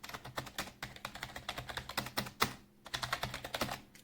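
Quick bursts of clacky keystrokes on a RedThunder K20 rechargeable wireless keyboard with round typewriter-style keys, close and crisp in an uneven rhythm with a brief pause midway, no voices.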